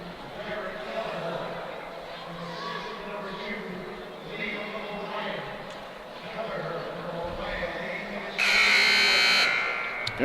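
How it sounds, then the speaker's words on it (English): A loud, harsh timeout buzzer blares near the end, after several seconds of crowd murmur and commentary in an arena at a hockey game. "Ring the buzzer early."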